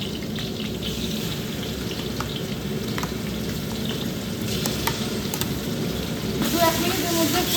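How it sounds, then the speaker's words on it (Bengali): Onion paste sizzles in hot oil in a large pot for a Bengali mutton curry, a steady close crackle with occasional stirring scrapes. "প্রথমে দিয়ে দিচ্ছি আমি পেঁয়াজ বাটা"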